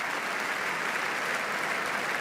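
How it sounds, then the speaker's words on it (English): A tennis crowd at the Roland-Garros women's semi-final applauds Sabalenka, a broad, even wash of clapping from many spectators that holds steady throughout with no break. "We sense that Sabalenka will get a lot of applause."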